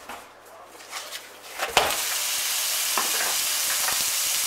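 Minced meat lands in a pan with olive oil and breaks into a loud, steady sizzle, preceded by a few stirring knocks and scrapes, frying continuously up close.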